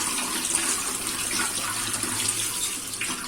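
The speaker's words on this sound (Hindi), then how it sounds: "प्याज को हम काट के धो लेंगे और आलू को भी काटने के बाद धोएंगे।" Cut onions and potatoes washed in running water at a kitchen sink, a continuous close splash and gush of tap water with no talk.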